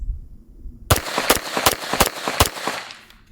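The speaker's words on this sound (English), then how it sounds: "So this is some basic sound of a, PDW, PCC style 9mm." An unsuppressed 9mm Staccato PCC fires supersonic 124 grain full metal jacket rounds: about six sharp, loud, closely spaced reports ring out in an uneven rhythm after a quiet start, each followed by a brief echoing tail.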